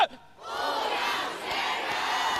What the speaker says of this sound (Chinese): 还记得口号吗？ 我们来喊一遍好不好？